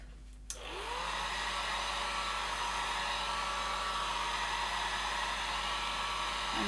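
A heat tool or dryer switches on and blows steadily at close range, drying alcohol ink on paper with a continuous even whoosh and no talking.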